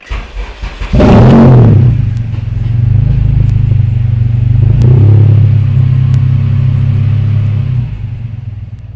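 A K-swapped 2002 Honda Civic cranks and fires up, settling into a loud, steady idle that rumbles on for several seconds before dropping off near the end.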